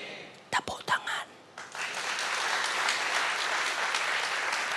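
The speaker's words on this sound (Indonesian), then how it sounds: "Tepuk tangan." Church congregation applauding during a sermon, rising after a few spoken words into full, sustained clapping filling the room.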